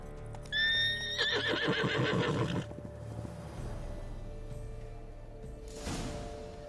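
A horse in The Witcher 3 video game gives a loud, shaky whinny with snorting and a few hoof clops, then fades to quiet game ambience with a brief soft rustle near the end.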